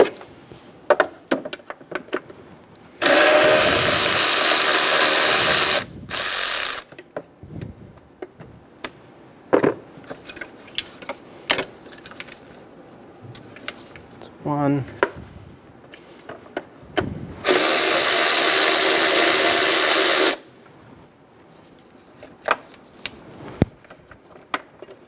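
Ratcheting and clicking as a socket wrench takes out 10 mm bracket bolts on a 2011-2014 Hyundai Sonata during cooling fan replacement, with two long loud bursts of rapid ratchet noise and scattered metallic clanks between them.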